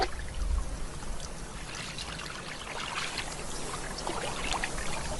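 A honey badger splashes and swims in a small plastic baby pool, making a steady, close, continuous wash of churning, trickling water with no pauses.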